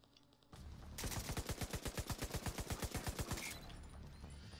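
An enemy purple turret in The Division 2 fires a steady, rapid string of about twenty evenly spaced shots, loud and sharp, after a brief quieter lead-in.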